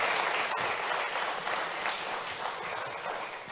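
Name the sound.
applause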